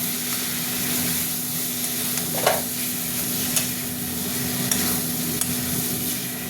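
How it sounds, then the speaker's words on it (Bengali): Garam masala being stirred in a pan with frying potatoes, a soft continuous sizzle with occasional scraping clicks of the spoon against the pan. "গরম মশলাটা দিয়ে আরেকবার একটুখানি নাড়বো"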